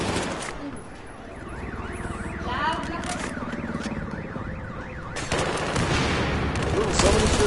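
Gunfire in the video game Battlefield 4, with dense bursts of automatic shots and wavering alarm-like tones through a busy battle mix, loud and continuous, with occasional player chatter.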